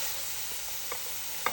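Vegetables, onions and green onions, go into a darkened butter-and-flour roux for Louisiana shrimp creole, giving a steady broad sizzle with a couple of brief stirring scrapes.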